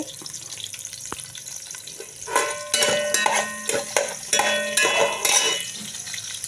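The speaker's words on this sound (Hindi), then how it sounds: "प्याज डाल दिया। प्याज थोड़ी सी गोल्डन हो जाए" Onions fry in a pan toward golden, a quiet sizzle that swells into louder crackling bursts with utensil scrapes and clinks as they are stirred.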